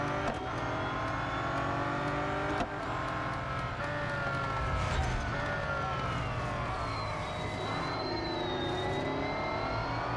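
Race car engines from the Real Racing 3 video game drone continuously, revving and shifting pitch as cars run close together, with a steady loud engine bed and no speech.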